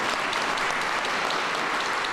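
Audience applause at a college building's grand opening, a dense steady wash of clapping from a crowd, loud and continuous for the full short span.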